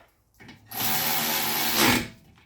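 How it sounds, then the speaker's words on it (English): A power tool tightens the brake caliper pins on an Audi B8, giving one loud, steady whirring run of about a second and a half with a brief rise near the end, and no talk. "Now tighten up your caliper pins."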